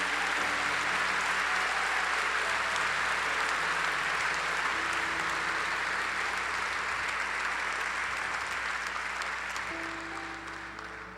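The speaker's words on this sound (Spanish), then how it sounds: "Denle un aplauso bien fuerte" A church congregation breaks into loud, sustained applause, a dense, continuous roar of clapping that holds steady and begins to fade slightly at the end.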